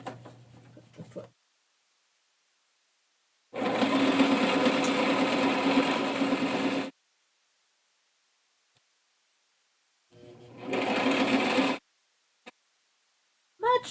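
A sewing machine stitches a zippered pouch in three separate runs, each a steady, fast mechanical whirring of a few seconds. Silent pauses fall between the runs, with a short burst at the start and small clicks near the end.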